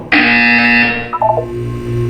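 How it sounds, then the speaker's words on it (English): Electronic buzzer from the video game Portal 2, a loud sustained harmonic tone lasting about a second, then a short stuttering series of brief higher blips as it cuts off over a low background hum. "When you hear the buzzer, look up at the ceiling."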